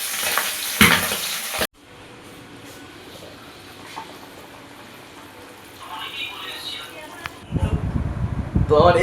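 Fish frying in a pan with crackling, hissing sizzle, loud at the start, then a quieter stretch before the spattering swells again near the end, with a voice talking over it.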